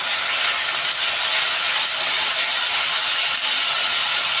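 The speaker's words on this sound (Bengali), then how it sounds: "তেজপাতা ফোড়নে দিলাম, দিয়ে পেঁয়াজগুলোকে ভেজে নেব।" Onions and bay leaf fry in hot oil with a loud, steady, unbroken sizzling hiss, close up and continuous throughout.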